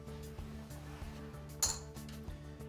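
Clay poker chips clink and clatter lightly as they are swept together into the pot at a Texas Hold'em table, a few soft taps and one sharper clack, close and quiet.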